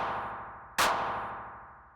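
A clap sample with an analog-style slapback echo preset sounds as a single sharp, bright hit over a hazy, sustained noisy tail that slowly fades out.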